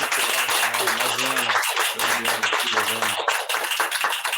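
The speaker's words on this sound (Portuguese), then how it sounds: "Eu queria pedir para o pessoal dar uma salva de palmas" Dense, continuous clapping from a lecture audience, with a voice speaking over it part of the way through.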